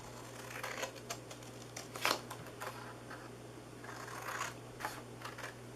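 Scissors snip through paper while a Hippest Hippos treat box is being made, giving a quiet series of short, crisp cuts spaced irregularly over a faint steady hum.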